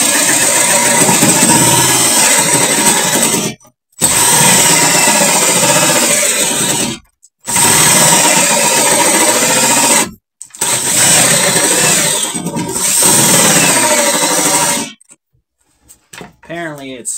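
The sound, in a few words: drilling with a Forstner bit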